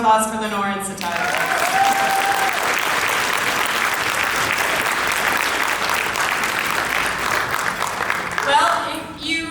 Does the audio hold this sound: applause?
yes